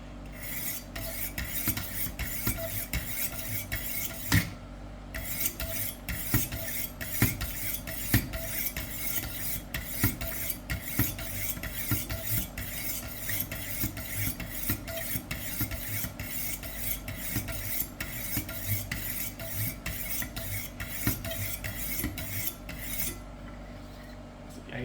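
A kitchen knife stroked repeatedly across a 1000 grit whetstone, steady rhythmic rasping scrapes back and forth, close and clear for the whole stretch, with a brief pause near the start and no talk.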